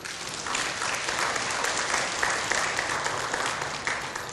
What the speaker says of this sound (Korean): 하나님께 감사 박수 한번 드리겠습니다.